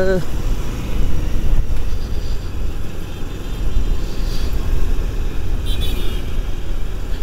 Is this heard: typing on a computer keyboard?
no